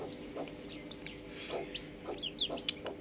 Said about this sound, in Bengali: আমার এই মুরগিটা খুব চিল্লায়